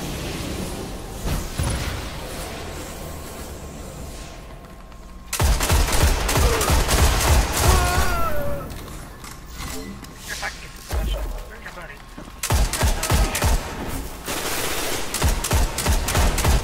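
Rapid gunfire and bursts of automatic weapon fire from the video game Destiny, played in a Crimson Doubles match, come in loud dense stretches with brief quieter gaps between them.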